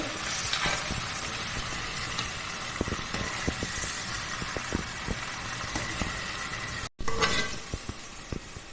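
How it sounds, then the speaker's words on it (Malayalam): Ginger chicken pieces fry in hot oil with a steady, loud sizzle, broken by frequent scrapes and knocks of stirring, a momentary cutout near the end, then the crackle resumes. "ഇങ്ങനെ ഇങ്ങനെ ഇങ്ങനെ പൊരിഞ്ഞാൽ മതി"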